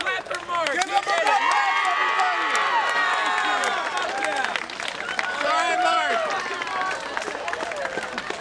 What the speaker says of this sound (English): Everybody, clap for Mark.